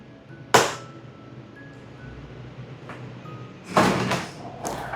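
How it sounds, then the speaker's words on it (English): Door of a Japanese-style sleeping pod in a capsule hotel in Kochi unlocking after a key card is shown to a sensor: a sharp click, then a clunk and sliding rattle as it opens, close and brief. "The doors will automatically unlock."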